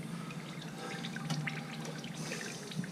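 Engine oil dripping and trickling out of a Triumph Explorer XCA motorcycle during an oil change. A steady liquid patter runs with a few distinct drips and is heard faintly, with no talk.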